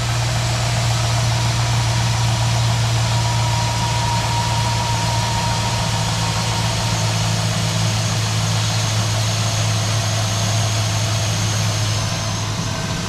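A 2005 GMC Sierra engine idles steadily after a cold start, a loud, continuous low drone with a faint higher whine running over it and no break for the whole stretch.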